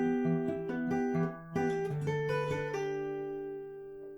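An acoustic guitar fingerpicks the first ending of the intro, a quick run of plucked notes that settles into a sustained chord ringing out, close and alone.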